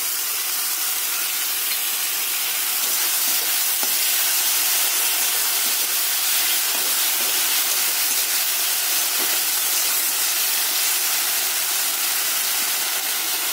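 Tomato and ginger paste masala frying in a pan gives a loud, unbroken sizzling hiss that holds steady throughout, close and without talk.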